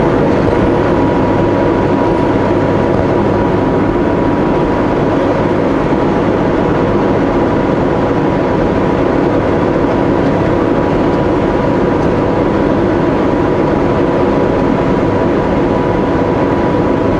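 A semi truck rolls downhill on the Kootenay Pass with its engine brake working in low gear, producing a loud, continuous droning rumble heard from inside the cab, with no pauses.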